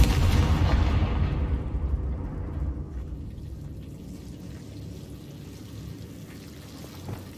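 A heavy explosion from the Confringo spell in the video game Hogwarts Legacy, starting with a loud rumbling boom that tails off gradually into a low lingering rumble, with a small thump near the end.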